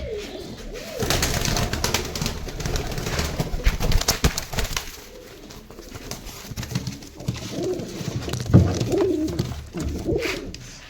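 Pigeons coo repeatedly inside a loft housing newly arrived birds, their soft throaty calls rising and falling in overlapping bursts close by, with background rustle and a brief sharp knock partway through.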